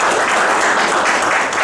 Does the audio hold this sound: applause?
yes